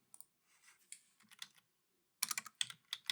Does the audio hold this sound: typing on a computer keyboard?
yes